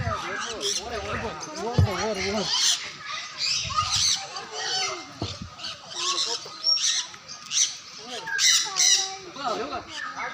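Repeated harsh parrot squawks and screeches, loud and close, coming in irregular bursts with other bird calls and some voices mixed in.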